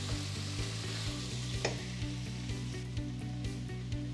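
Chorizo, potatoes and vegetables fry loudly in a pan, a dense crackling sizzle broken by regular scraping strokes as the mixture is stirred.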